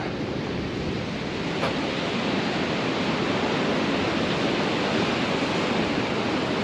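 Steady roar of Indian Ocean surf washing onto a beach in Mozambique, continuous and broadband with no voices, wind-like hiss throughout.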